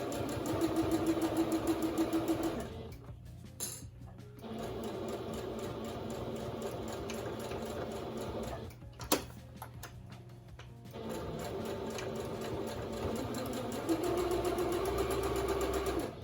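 Home sewing machine stitching a fabric face mask, running in steady bursts with brief pauses between seams and a short mechanical clunk midway, close and fairly quiet.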